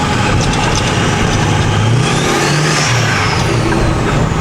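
A 6.4 Powerstroke diesel truck with compound turbos accelerates under a loud, continuous engine roar while rising turbo whistles sweep upward, the first spooling and then the second joining.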